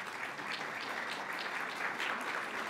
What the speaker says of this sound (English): Eileen wins the applause contest